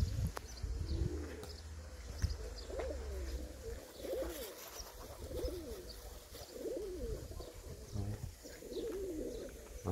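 A large flock of pigeons near a garden, soft repeated cooing from several birds with occasional chirps and faint wing flaps, moderately distant and quiet against a low outdoor background.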